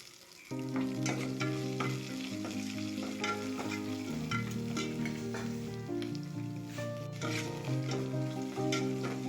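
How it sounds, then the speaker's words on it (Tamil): Chopped onions with a pinch of salt fry in a pan for a potato masala, a steady sizzle running underneath loud, continuous tonal music that dominates the whole stretch. "வெங்காயம் வதங்கிறதுக்கு கொஞ்சம் உப்பு சேர்த்திக்கலாம்"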